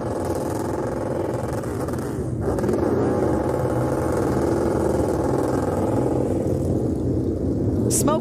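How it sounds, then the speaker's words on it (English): A 2022 ARCA Menards Series race car at Toledo roars through a burnout, a loud sustained engine drone that swells partway through amid crowd noise and commentary. "The 18 doing the burnout there because he just won the owner's title."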